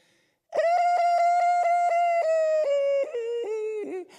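A voice imitates a dying battery alarm: a sustained nasal tone pulsing in rapid beeps, slowly dropping in pitch as it fades toward the end.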